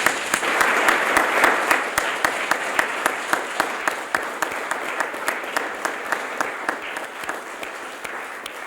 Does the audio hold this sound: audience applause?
yes